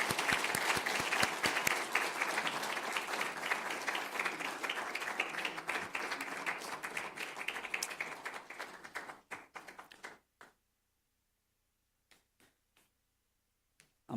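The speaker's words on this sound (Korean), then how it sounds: "격려의 박수를 한번 보내도록 하겠습니다" Congregation applause for retiring KPM missionaries at a thanksgiving service, a full round of clapping that thins out, then stops, leaving a few scattered last claps in near silence.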